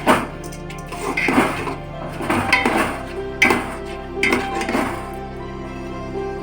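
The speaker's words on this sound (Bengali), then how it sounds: "চালটাকে একটু আমি নেড়ে নেব।" Soaked rice is stirred in a cooking pot while making vegetarian khichuri, heard as a series of loud metallic scrapes and clinks from a utensil against the pot, repeating in irregular strokes with no talking.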